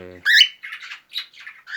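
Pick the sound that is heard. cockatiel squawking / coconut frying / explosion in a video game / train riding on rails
cockatiel squawking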